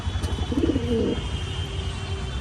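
A single soft pigeon coo rises briefly midway in a small pigeon loft, close by over a faint steady background hum.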